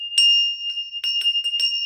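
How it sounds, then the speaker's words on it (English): A small bell rung to clear energies gives a bright, sustained ringing tone, struck several times in quick succession over about two seconds, its steady high ring hanging between strikes, close and clear with no talk. "ring my bell, clear the energies"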